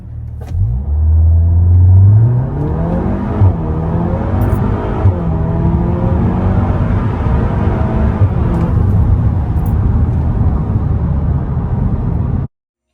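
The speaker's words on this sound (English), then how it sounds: "let's just listen to this Golf R for no reason at all." Volkswagen Golf R engine revving hard, opening with a loud rising surge, then settling into a sustained deep rumbling drone at high revs that holds steady before cutting off abruptly.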